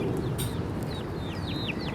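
A rooster crows in a series of short, rising calls, fairly close, over steady background farm noise.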